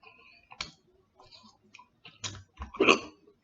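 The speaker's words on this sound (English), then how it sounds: "I got the hiccups." Hiccups while eating spicy Buldak hot chicken wings, several short, abrupt throat jolts spaced irregularly amid quiet chewing and mouth clicks, the last one loudest.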